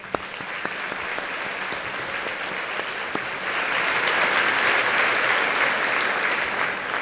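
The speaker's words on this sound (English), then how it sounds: "Please join me in giving these dedicated individuals a nice round of applause." Sustained audience applause at a College of Central Florida evening commencement ceremony, a dense steady wash of clapping from a large crowd that swells louder midway and continues without talk.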